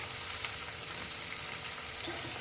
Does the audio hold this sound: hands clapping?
no